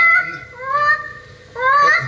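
A hypnotist onstage sounds a horn, several loud honks in two bursts, with a rising goose-like, fowl-like tone.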